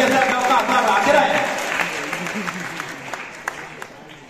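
An audience claps for a BSF dog at a border ceremony, a dense burst of applause that gradually thins and fades over a few seconds.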